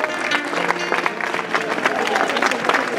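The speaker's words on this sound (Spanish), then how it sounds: "les pido un aplauso" Crowd applause at an outdoor pro-life rally in Vigo, mixed clapping with voices and cheering underneath, moderately loud and continuous for a few seconds.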